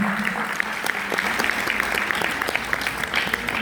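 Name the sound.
audience applauding loudly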